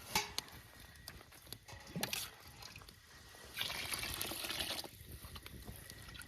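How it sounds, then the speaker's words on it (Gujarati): Water is poured into a pot of khichdi with moong dal and rice, cooked outdoors on a farm in winter, giving quiet trickling and splashing bursts with a few sharp clinks, faint and close. "હવે આમાં પાણી વેરી દેવું આપણે."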